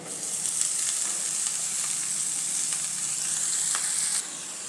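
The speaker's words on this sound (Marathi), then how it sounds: "कांदा परतले गेला आहे तेलामध्ये आता त्यात मिरची दोन टीस्पून मिरची पावडर टाकली लागते चंदन बटवेची भाजी टाकते" Chandan batwa greens fry in oil with onion and chili powder, giving a steady, close sizzle and crackle with faint stirring scrapes throughout and no speech.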